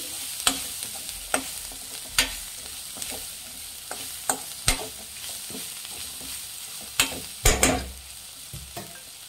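A spatula stirs spices with turmeric powder and cooked onions in a frying pan, striking the metal with sharp, irregular clinks over a low, constant sizzle, close and alone.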